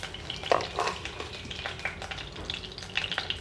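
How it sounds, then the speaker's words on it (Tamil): Mustard seeds spluttering in hot oil while tempering rasam, a soft frying sizzle with scattered small pops, close and fairly quiet. "கடுகு வெடிச்சிருச்சு."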